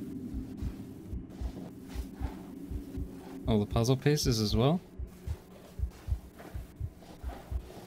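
A low, steady double-thump heartbeat from the Among the Sleep horror game pulses throughout over a faint hum, briefly sharing the mix with a man's spoken question partway through.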